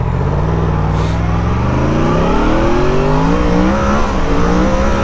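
A Yamaha FZ-10 motorcycle engine revs up through its gears, pitch climbing repeatedly as it accelerates from 0 to 60, loud and close with no talking.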